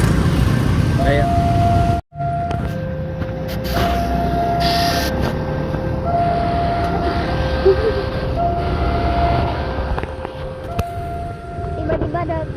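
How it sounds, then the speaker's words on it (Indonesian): A train rolls through a railway level crossing in Delanggu, Klaten, Central Java, as a steady rumble with long sustained warning tones sounding over it, a brief dropout near the start, and people talking over the noise. "Tiba-tiba ada kereta lagi dong."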